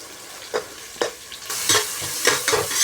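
Onions frying and stirred in a pan with capsicum, curry leaves, bay leaf and urad dal for vangi bath, a steady sizzle broken by several scraping stir strokes, loud and close, with no talking.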